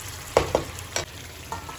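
Nizami mutton frying in a pan as a little water goes in, with soft sizzling and a few sharp splashes and stirring scrapes spread across the moment, fairly quiet and close.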